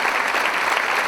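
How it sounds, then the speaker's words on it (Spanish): Applause from an audience at a Frente Cultural Federal event, a short burst of dense, even clapping throughout. "Yo voy a pedir un fuerte aplauso para Piña Herrera de La Rioja"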